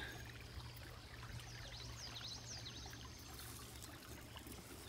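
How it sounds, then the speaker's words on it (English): A small Michigan creek trickles faintly and steadily, a soft distant babble of water with no voices, quiet throughout. "Found a little creek."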